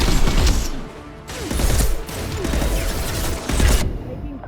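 Sustained gunfire fight in the Mass Effect 2 video game, dense overlapping bursts of automatic shots with sharp impacts, loud and close throughout with heavier volleys near the start and end.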